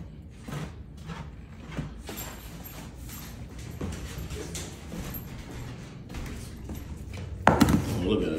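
A French bulldog eats food from her bowl, giving scattered crunching and clinking bites with irregular pauses and a louder clatter near the end.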